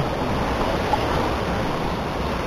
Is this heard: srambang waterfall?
yes